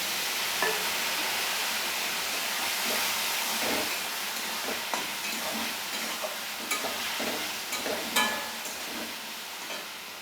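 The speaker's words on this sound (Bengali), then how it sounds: "এবার আমি জল দিয়ে কষিয়ে নেব" Chili powder and turmeric sizzle in a pan with a splash of water while being stirred for a hilsa fish curry with potato and eggplant; a steady close hiss with scraping stirs throughout.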